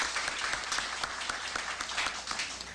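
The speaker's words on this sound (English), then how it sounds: "I would like to have all of us give him a round of applause here to greet him" A crowd applauds steadily to greet Ohio governor Richard F. Celeste at an institutional gathering, dense continuous clapping filling the room without letup for a few seconds.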